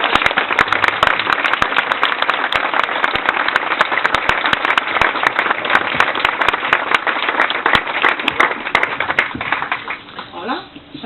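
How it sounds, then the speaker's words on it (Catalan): An audience at an inauguration event with a regional president present breaks into loud, sustained applause, dense clapping filling the room for about ten seconds before tapering off at the end. "jo demanaria un aplaudiment que motivi a la Sònia"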